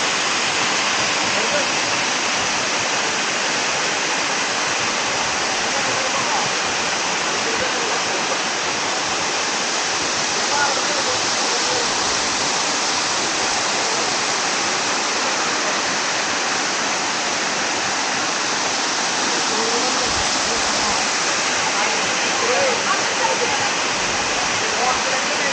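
Water plunging from above at the Pattathippara waterfall in the forest makes a continuous close roar of rushing white noise, steady and full throughout with only slight swells in level.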